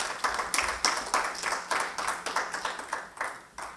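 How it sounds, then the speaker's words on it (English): A small group claps for three presenters in a breakout session, a few people clapping in an uneven rhythm, close and fairly clear. "please let's clap for the 3 presenters first"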